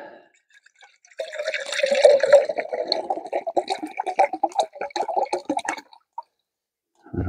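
Water from a bottle poured into a Stanley cook pot, a steady splashing trickle running for about five seconds with bright dripping edges, then tapering off to a few last drops before quiet.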